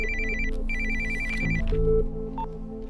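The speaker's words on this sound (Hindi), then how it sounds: "फोन उठाइए।" An electronic phone ringtone plays loudly, a repeating melodic ring pattern of bright tones over a low background hum.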